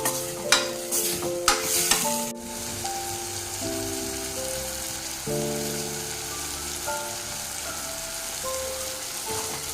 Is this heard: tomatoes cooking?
yes